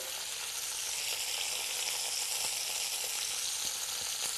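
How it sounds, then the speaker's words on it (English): Chicken sizzles loudly and steadily in a hot pan, a dense continuous hiss with faint pops, close by and without any talking. "You can really hear it sizzling."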